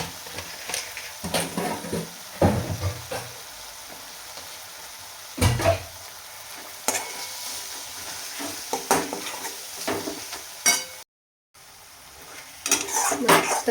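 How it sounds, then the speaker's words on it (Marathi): Spiced dal mixture sautéed in oil in a pan, with intermittent scraping stirs, clinks of a spoon against the pan and a soft sizzle underneath, a brief silence near the end. "आता आपण अजून 1 मिनिट ह्याला परतून घेऊया."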